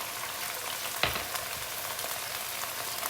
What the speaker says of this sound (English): And stir fry together.